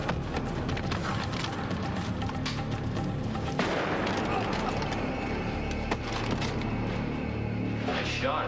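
A gunshot fired by Hans cracks out amid a dense, loud action-scene soundtrack of rumbling effects, music and voices, with a sharp burst standing out in the middle.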